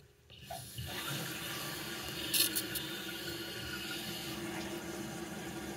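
After the supply valve is turned on, water rushes into a household toilet tank in a steady, hissing fill that holds at a constant level throughout.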